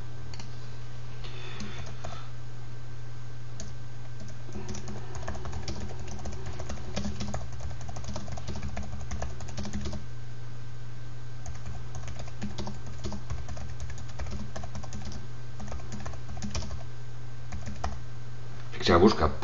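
Someone types a Twitter comment on a computer keyboard in a quick, steady patter of close key clicks that runs throughout, over a constant low electrical hum.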